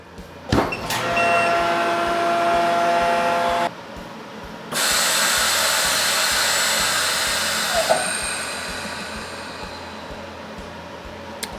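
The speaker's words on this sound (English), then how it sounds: "All right, so the brisket is vacuum sealed." A large chamber vacuum sealer pulls the air from a bag holding a whole brisket, its motor giving a steady close whirring hiss that stops briefly and then returns louder, with a faint click near the end.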